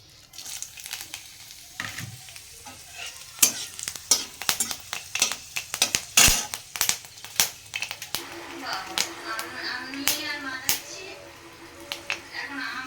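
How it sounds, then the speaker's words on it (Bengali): Dry red chilies crackle in hot oil for a lentil tempering, heard as busy sizzling and utensil clatter that grow denser toward the end, with a voice talking at times. "তেলটা গরম হয়ে এসছে দিয়ে দেবো এতে শুকনো লঙ্কা"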